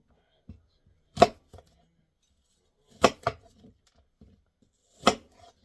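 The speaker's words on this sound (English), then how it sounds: "Let's cut up some apples." Apples being chopped for a carrot, apple and lemon juice: sharp knife strikes hit a cutting board, one near 1.2 s, a quick pair near 3 s and one near 5 s, with faint small taps between and no voices.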